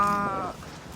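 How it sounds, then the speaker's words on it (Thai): A cow on a hillside in Hong Kong gives a short, harmonic bleating call close by. It fades out quickly into quiet outdoor background. "บ้าอยู่ฮ่องกงก็มีงัวด้วยพี่น้อง"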